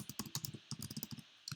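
Rapid typing on a computer keyboard while coding a SAPUI5 shopping cart tutorial, a close, dry run of uneven key clicks in short bursts with a brief pause midway.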